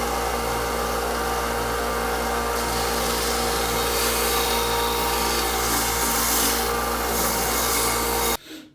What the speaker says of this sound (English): So we're going to sand this now.